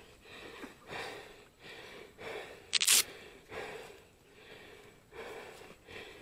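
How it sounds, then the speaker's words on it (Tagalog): Heavy, out-of-breath panting from a person exerting themselves, a steady rhythm of loud breathy inhales and exhales roughly every second, with a sharp click partway through. "Hingal."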